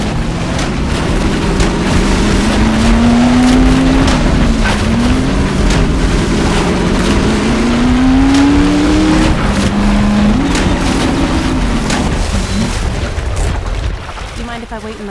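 A car speeds along in Half-Life 2 Episode 2, its engine roaring loud and close. The pitch rises and falls repeatedly as it accelerates and shifts, holding strong throughout before easing off slightly at the very end.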